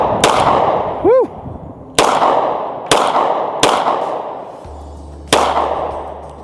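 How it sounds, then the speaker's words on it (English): Repeated gunshots from a Girsan 2311 Brat double-stack .45 ACP pistol, five or six sharp loud reports spaced about a second apart, with a short whistle-like tone early on. "we have some more rounds to shoot"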